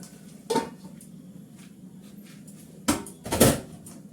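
A pot of rice is set down on a gas stove, with a single clank early on, then two louder metallic knocks and scrapes close together near the end, over a quiet kitchen background.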